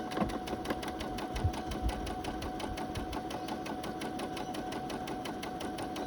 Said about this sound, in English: And I've got my machine set to a straight stitch.